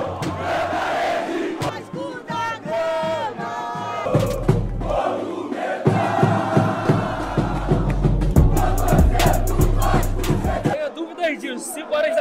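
Hundreds of Vasco football supporters in Rio de Janeiro cheering and chanting in a frenzied crowd, loud rhythmic singing and shouts with drum-like thumps, close and continuous.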